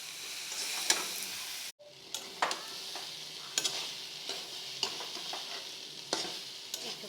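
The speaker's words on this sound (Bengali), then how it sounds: "কিছুক্ষণ এভাবে লেড়ে চেড়ে কষিয়ে নিয়ে তারপরে জল দিতে হবে" Soya chunks stir-fried with spices and sauce in a pan: continuous sizzling with repeated scraping strokes of a spatula at irregular intervals, close up, with one brief gap of near-silence early on.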